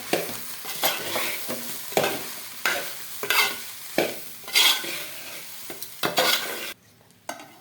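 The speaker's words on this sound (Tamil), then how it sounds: "நல்லா கிளறியாச்சு." Prawn fried rice, seasoned with chaat masala, is stirred in a pan over a lowered flame. Repeated scraping strokes come about once a second over a steady sizzle, with a short near-silent pause at the end.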